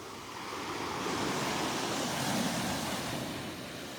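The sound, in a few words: ocean waves breaking on a beach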